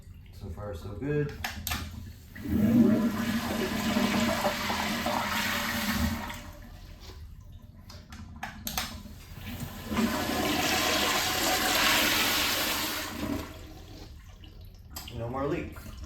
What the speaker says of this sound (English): Let's go ahead and flush.